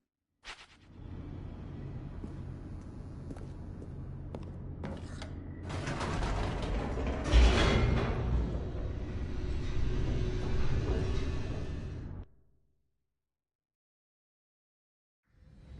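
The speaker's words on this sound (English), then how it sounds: "The elevator raced downward, plummeting towards an unknown fate." Elevator descending in The Stanley Parable: a continuous mechanical rumble with grinding, creaking gear-like noise that swells in the middle and then stops abruptly, leaving silence.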